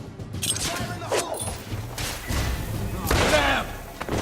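Gunfire and grenade blasts in The Order 1886 video game make a dense run of booming, crackling bursts, with voices shouting over the combat.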